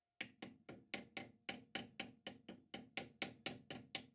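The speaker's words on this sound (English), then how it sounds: "I always give it a bit of a tap with my very soft nylon-faced hammer, just to make sure that the casting is seated properly in the chuck" Soft nylon-faced hammer tapping a metal casting seated in the chuck of a small Boxford lathe, sounding as about fifteen quick, evenly spaced close taps, each with a short ringing decay.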